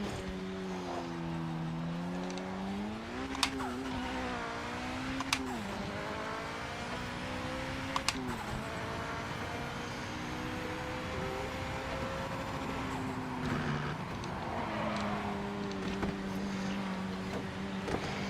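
A race car engine in the Project Motor Racing video game drones steadily through a qualifying lap, its pitch rising and falling with shifts and throttle changes, continuous and moderately loud with no talk.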